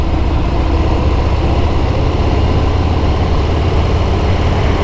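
A Harley-Davidson M8 114 Fat Bob motorcycle engine runs at a steady, loud idle, a low continuous rumble close by with no talk over it.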